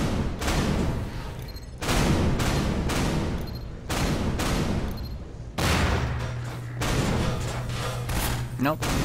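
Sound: gunfire in the Half-Life 2 video game

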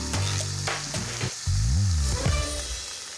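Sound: curry base bubbling and frying in a pan

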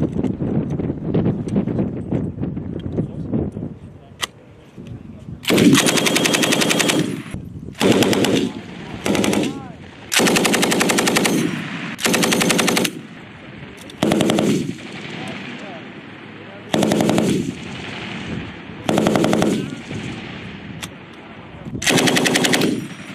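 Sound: Marines firing M240B machine guns

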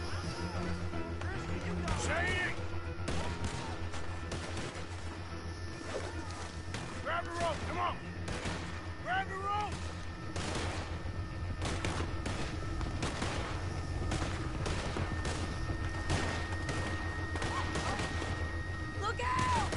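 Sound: sniper gunfire in video game Red Dead Redemption 2

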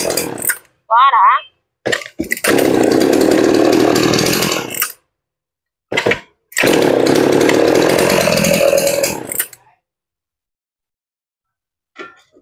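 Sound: chainsaw running and cutting wood

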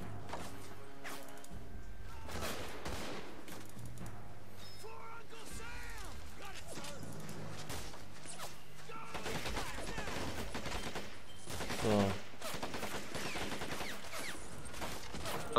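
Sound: gunfire in the video game Men of War: Assault Squad

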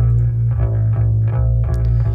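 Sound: lo-fi plugin distortion on bass in Pro Tools

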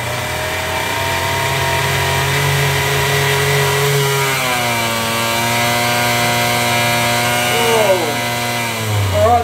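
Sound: Galaxy 125 race engine running at 7,500 RPM

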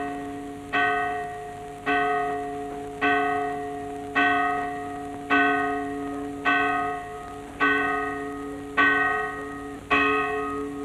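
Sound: church bells ringing for dawn mass

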